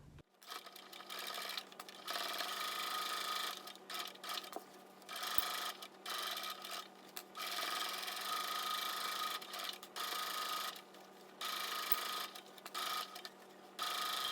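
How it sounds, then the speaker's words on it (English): A sewing machine stitches around the top of a fabric tablet or book case, running in repeated whirring bursts separated by short pauses, close and steady with no talking. "So I'll sew around the top of the bag."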